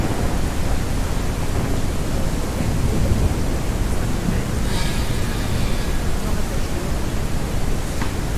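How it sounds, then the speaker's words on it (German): Thunderstorm in Ranch Simulator, a loud, continuous roar of rain and rumbling thunder that fills the whole stretch, with a brief brighter crack in the middle. "Ich habe das Gewitter nicht bestellt."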